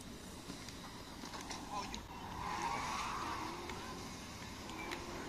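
Car driven around a city in a video game running on SteamOS 3.5, a steady engine and road drone with a brief tire-squeal rise midway, under quiet talk.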